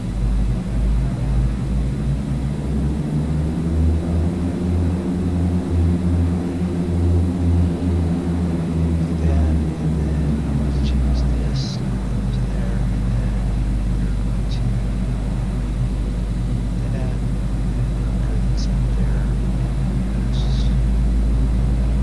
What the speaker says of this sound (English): I'll have to fix the engine sounds a little bit